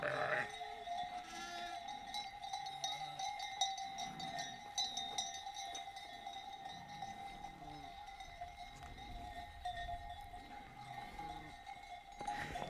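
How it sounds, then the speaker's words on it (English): A flock of sheep being walked home on a Portuguese farm, their cowbells clanking continuously at a distance with occasional faint bleats, soft and steady throughout. "They're just walking the sheep home."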